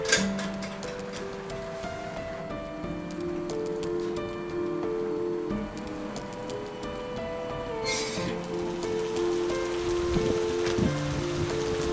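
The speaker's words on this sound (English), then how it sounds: "One night it rained really heavy." Heavy rain pours down on a wild, rough night, a steady dense patter on surfaces with scattered ticking drips, constant and close throughout.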